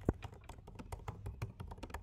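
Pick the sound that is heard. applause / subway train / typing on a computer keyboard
typing on a computer keyboard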